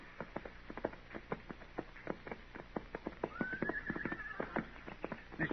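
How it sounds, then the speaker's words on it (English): Saddled horses wander unattended, their hooves clip-clopping in an irregular, fairly soft rhythm. Midway through, one horse gives a short whinny. "Dillon, what do you figure them horses are doing down there?"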